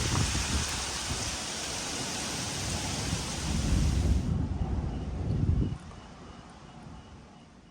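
Strong storm winds blow in ahead of thunder and lightning at a campsite, a loud continuous roar of gusts and microphone buffeting that drops off abruptly near the end, with no talking.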